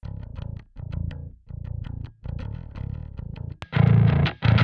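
Bass guitar running dry without an amp simulator in a rock worship mix, sitting with drums and other instruments in steady phrases, louder and fuller near the end.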